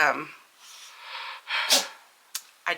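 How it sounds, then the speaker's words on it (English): A short, sharp sneeze bursts out close by, followed by a breathy sniff and a second quick nasal burst. "He's been sneezing just as much as the rest of our household."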